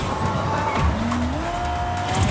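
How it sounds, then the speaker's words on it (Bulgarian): Car driving in Fortnite, a steady engine drone with rising pitch sweeps and tire squeal, loud and continuous with no talk. "Ей, кола!"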